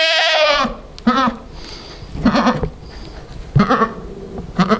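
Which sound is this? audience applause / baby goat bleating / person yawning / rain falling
baby goat bleating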